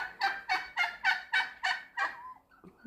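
A turkey in a farmyard calls in a quick run of seven evenly spaced, loud gobbling pulses close by, trailing off into softer clucks and rustling.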